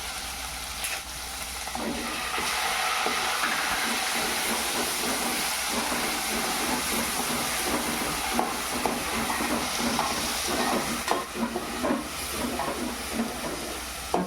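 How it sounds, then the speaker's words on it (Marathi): Chopped onion sautés in a hot pan with a dense, steady sizzle and hiss, and a spatula stirs and scrapes through it now and then, close and continuous. "व्यवस्थित परतून घेऊ त्याला कांदा शिजत"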